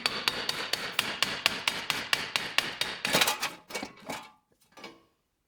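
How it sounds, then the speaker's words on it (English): A hammer pounds a seized wheel bearing hub on an Infiniti Q50, striking in a fast, even series of about fifteen sharp metallic blows, then a few slower, scattered hits before stopping. "you're going to have to pound on it pretty hard"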